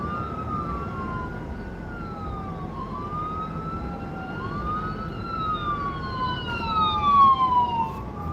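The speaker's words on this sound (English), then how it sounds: "You got an ambulance coming." An ambulance siren wails in long rising and falling sweeps, moving nearer and growing louder toward the end, heard alone over a low background rumble.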